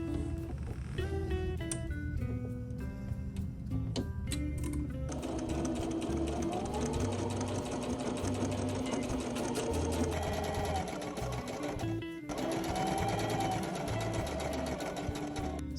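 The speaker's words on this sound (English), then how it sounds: "and now I'm just gonna sew over it." A domestic sewing machine runs steadily, stitching through fabric layered over quilt batting for a make-up bag, its motor whirring continuously with short pauses and restarts, close and loud.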